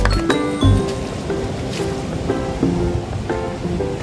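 Sea waves breaking at Guhagar Bag beach on the Konkan coast, a steady wash of surf with wind buffeting the microphone and faint tonal sounds over it, continuous and moderately loud.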